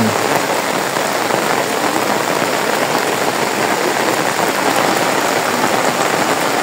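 Heavy rain pours steadily during a flood, a dense, even hiss of drops pounding surfaces nearby with no break, loud and unbroken throughout.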